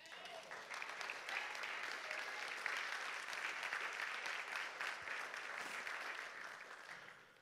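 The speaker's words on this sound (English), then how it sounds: "You've got a hand clap." A church congregation at a Sunday service claps during a sermon, giving a soft, distant but continuous spread of many hands clapping that holds steady for several seconds and then tapers.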